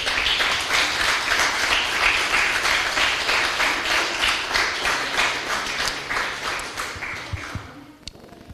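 A church congregation claps loudly in praise during a Spanish-language service, the dense applause carrying a faint rhythmic pulse before tapering off and fading out near the end.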